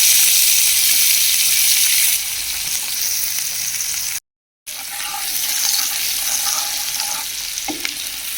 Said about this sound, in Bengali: মাছ ভাজার তেলের মধ্যে আমি এখানে পেঁয়াজ কুচিগুলো দিয়ে দিলাম।